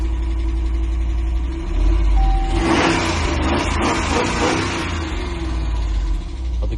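A 2023 Jeep Grand Wagoneer Series I engine starts at the press of a button, its cranking and roar rising from a steady low idle hum and then settling into a loud, close, rumbling run with no talking.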